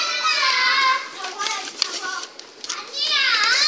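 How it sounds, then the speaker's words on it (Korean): Children's voices drifting in from outside through an open window, several kids chattering and calling out at play, fairly loud and lively. "밖에 지금 창문을 열어놨더니 아이들 소리가 많이 들리네요"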